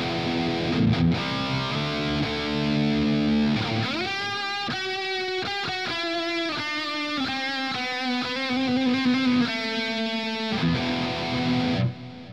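Distorted electric guitar played through a Spark amp into a DAW, with heavily overdriven sustained chords followed by a run of choppy, rhythmic riffs and ringing notes, loud and alone.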